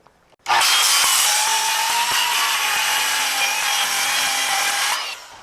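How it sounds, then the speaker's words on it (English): Corded power saw cutting through sheets during interior framing of a single-story barndominium: one loud, steady whining cut lasting about four and a half seconds, starting abruptly and winding down at the end, with no talking. "I don't like to eat up the battery if I have a place to plug this saw into"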